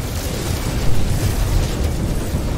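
Parts of a Dreadnought freighter blowing up in No Man's Sky, a dense, continuous rumbling roar of explosions with a low booming body and no clear gaps, loud and steady throughout.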